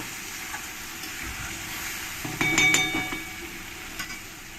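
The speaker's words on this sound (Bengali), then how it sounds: "জল দিয়ে মশলার সঙ্গে মিশিয়ে নেবো" Chicken curry masala simmering with added water is stirred in a pan: a steady, soft sizzle, with a short burst of metallic spoon-on-pan clinks and scraping midway, then a couple of lighter taps near the end.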